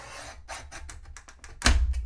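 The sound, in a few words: trimming paper for card gift box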